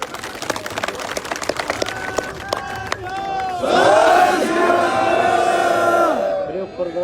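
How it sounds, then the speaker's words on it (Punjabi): A crowd at a Punjabi farmers' protest gathering in Delhi claps briefly, then breaks into loud, sustained shouting and cheering that fills the second half and fades near the end. "ਇੱਕ ਤਾੜੀ ਮਾਰੋ ਇਹਨਾਂ ਬਾਬਿਆਂ ਦੇ ਨਾਂ"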